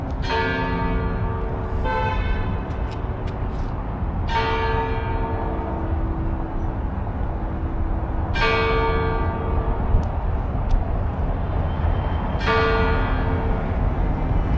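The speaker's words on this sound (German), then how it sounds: "Dann noch mit diesen Kirchenglocken." Church bells in Ukraine strike in slow, resonant tolls about every two to four seconds, each ringing out with a long decay over a steady background of distant traffic and street ambience.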